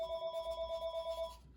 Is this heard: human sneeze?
no